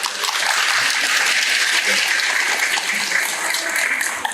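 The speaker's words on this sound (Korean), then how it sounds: "두 분께 다시 한번 박수 부탁드립니다" An audience at a Seoul finance expo applauds two guest experts, a dense, loud wash of clapping that stays steady across the whole stretch with faint murmurs beneath.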